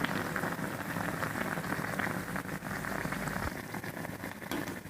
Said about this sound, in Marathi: तेल आता आपलं गरम झाले. आता आपण पुऱ्या टाकून देऊ.